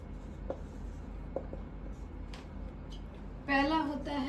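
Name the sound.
writing on a board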